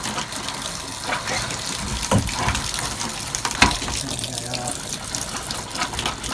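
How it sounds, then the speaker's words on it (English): Water runs steadily from a travel trailer sink faucet, a continuous hissing splash with a few knocks and clunks over it. "I do want to run the sink a little bit more."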